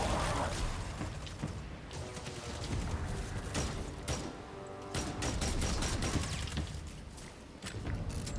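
Weapon fire in the video game Destiny 2 comes as a string of sharp, loud shotgun blasts spaced a second or so apart over a busy, noisy game background.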